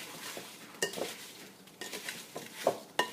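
A spoon mixes apple pie filling in a bowl, with quiet, irregular clinks and scrapes against the bowl and several sharper taps, close but low in level, with no talking.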